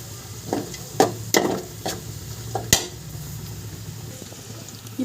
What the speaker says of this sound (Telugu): సరిపడినంత బాగా ఇప్పుడు కలుపుకుందాం